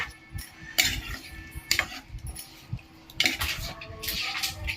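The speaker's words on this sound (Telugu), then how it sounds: "సో ఇవన్నీ మొత్తం మిక్స్ అయిపోవాలి, బాగా మిక్స్ చేసేసుకుందాము." Mutton with pepper and spices being stirred in a metal cooking pot, with irregular clanks and scrapes of a spoon against the pot over a low background hum.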